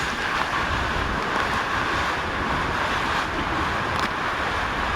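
Strong southwest monsoon wind and rain roar in a steady, dense wash of noise that stays loud and unbroken throughout, with no voices.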